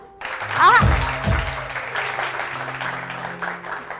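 Studio audience clapping rises on cue during a weekend talk show, a moderate, sustained patter with a short musical sting and a voice over the start.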